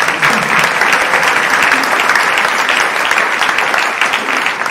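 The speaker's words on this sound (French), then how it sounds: "On les applaudit, non ?" Sustained applause from an audience at a French citizens' meeting, dense and steady throughout at close range, with no speech over it.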